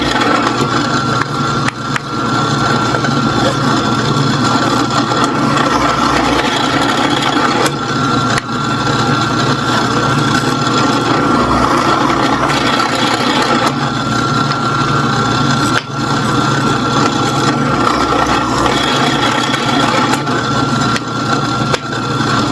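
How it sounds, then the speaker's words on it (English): A drill press drilling holes through the centers of wooden discs makes a steady, loud drone with a constant motor whine, running unbroken for the whole stretch with no audible pauses between passes. "We're just going to drill some holes through all the centers of these discs."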